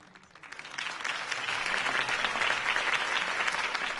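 Crowd applause after a mayoral campaign speech in the Telltale Batman game swells up within the first half second, then holds as a dense, steady wash of clapping from a large audience.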